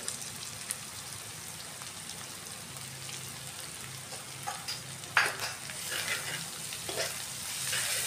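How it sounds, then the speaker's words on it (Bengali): Soft, steady sizzling of red chilli, coriander and cumin powders frying, with occasional scraping clicks of a spoon stirring the pan, no voices, fairly quiet and close. "এখন এটাকে নেড়েছে একটু ভাজা করে নিতে লাগবে।"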